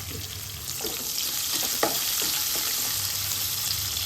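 Chopped green chillies and onions frying in hot oil for upma, a continuous close sizzle with a few soft clicks of stirring.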